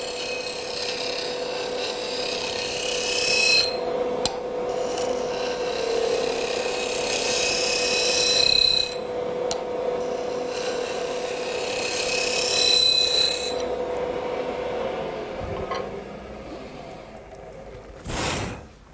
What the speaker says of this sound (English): just clean up the inside with the scraping tool